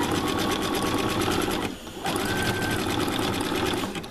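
A sewing machine stitches a custom tote bag with a close, continuous rapid whirring hum, briefly pausing and then resuming at the same steady pace.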